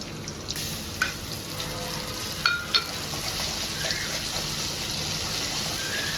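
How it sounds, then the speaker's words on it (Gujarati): Ginger garlic paste and green chili paste frying in oil with cumin seeds, a soft continuous sizzle with a few sharp spits and pops, fairly quiet and close. "પછી એમાં નાખવાનું છે આપણે આદુ લસણની પેસ્ટ છે. અને આ છે મરચીની પેસ્ટ."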